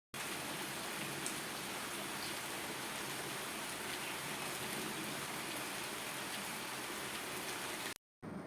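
Steady rain pours down outdoors, a dense, even hiss that holds unbroken for about eight seconds before cutting off abruptly, with no voices over it.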